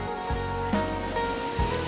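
Rain begins falling in the Thai countryside, a dense close patter on surfaces with a few heavier drips and knocks standing out over the steady hiss.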